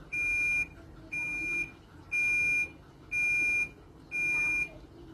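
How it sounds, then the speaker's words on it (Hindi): End-of-cycle beeps from a Haier automatic washing machine: five evenly spaced electronic tones of about half a second each, sounding loud and steady over a faint room background. "ये इसकी 6 सिंपल सी बीप्स हैं"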